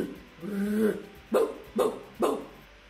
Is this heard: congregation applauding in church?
no